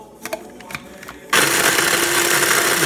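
Electric grinder chopping garlic for a vinegar dipping sauce, a few soft knocks and then a loud steady motor whir switching on and running continuously, no talk.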